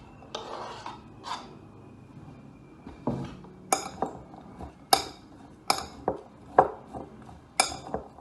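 Chopped dates stirred into a gluten-free hiking snack mix in a bowl, giving a run of sharp clinks and scrapes of a utensil against the bowl, close up and irregular, with no talking.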